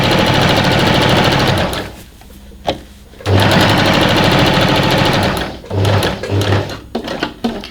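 Sewing machine stitching a side seam on knitted fabric for a poncho top, running in loud steady bursts of rapid stitching with short pauses between runs.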